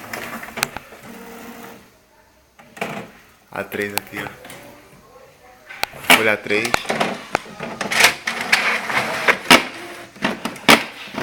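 An HP 7612 inkjet printer feeds and prints an A3 sheet with an abnormal noise: irregular mechanical whirring, clicking and grinding bursts that grow louder and busier after a brief pause, with a person talking early on.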